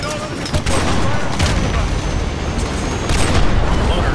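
Dense gunfire and booming blasts from Call of Duty Modern Warfare 2 Remastered fill the mix continuously, loud and close, with radio voices faintly talking underneath.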